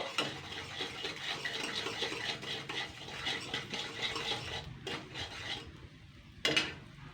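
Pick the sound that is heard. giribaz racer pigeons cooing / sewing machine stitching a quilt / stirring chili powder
stirring chili powder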